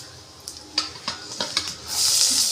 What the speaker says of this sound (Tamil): பெரிய வெங்காயத்தை போட்டுக்கலாம் பெரிய வெங்காயம் நல்லா வதங்கணும்